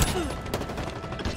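Gunfire in a combat video game on the Bazaar map, bursts of shots and impacts cracking over a dense, busy battle mix, with brief sharp transients and rubble-like clatter.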